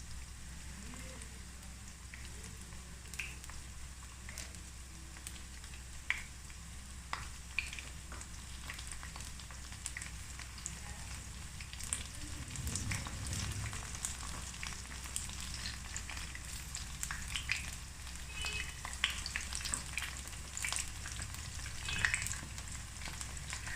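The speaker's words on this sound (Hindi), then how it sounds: "चले मैंने एक दफ़ा डाल दी है, अब इनको फ्राई करते हैं।" Okra frying in oil for a spicy masala bhindi, a steady crackling sizzle with occasional louder pops, heard close up with no talking.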